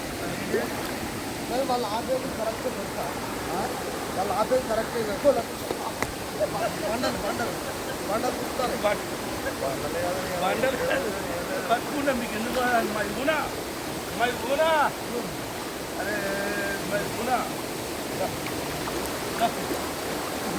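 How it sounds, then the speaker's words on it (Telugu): Kongala waterfall in Mulugu district, about 70 feet high, pours in a steady broadband rush of flowing water that runs unbroken and fairly loud throughout, with voices talking over it now and then. "వాటర్ ఫాల్ ఇక్కడే దగ్గర ఉన్నట్టు అనిపిస్తుంది."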